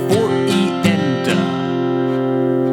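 Acoustic guitar strumming the chords of a song, a few quick rhythmic strokes with extra sixteenth-note strums near the start, then one chord left ringing and fading; close, solo, no talking.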